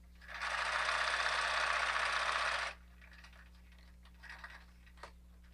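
Sewing machine back-stitching the end of a seam in diaper fabric, a steady close whirring run of a little over two seconds, followed by quieter handling sounds and faint clicks.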